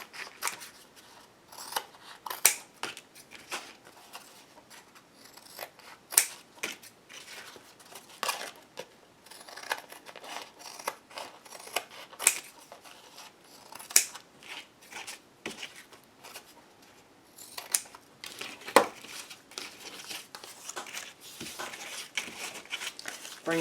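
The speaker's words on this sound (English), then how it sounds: "each one I'm going to cut into 4 pieces." Scissors cutting paper into pieces for an altered book craft project, a steady series of close, crisp snips and paper rustles, with occasional talk between the cuts.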